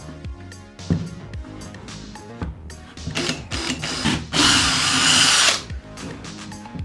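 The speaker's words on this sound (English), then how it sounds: "Now I'm using a 4mm drill." An electric drill with a 4mm bit whirs in short bursts into metal ears for a Boba Fett helmet, then runs loud and steady for about a second before stopping, with lighter mechanical clatter around it.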